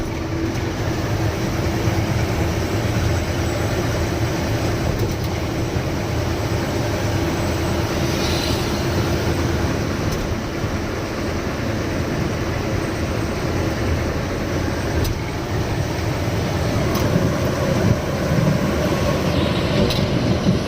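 A train rolls across a long rail bridge over a wide river, a loud sustained rumble of wheels and carriages that stays steady throughout with faint rhythmic clatter, no talk.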